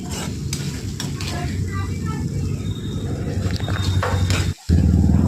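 Eggplant pieces frying in hot oil give a steady crackling sizzle with stirring scrapes, close and loud, briefly cutting out near the end before resuming.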